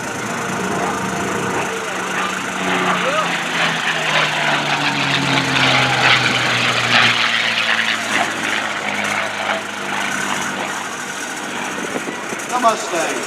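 Big 18-cylinder radial engines on a B-25 bomber and a TBM Avenger rumble past at an airshow warbird parade, a continuous loud droning growl with shifting pitch, and an announcer talks over it.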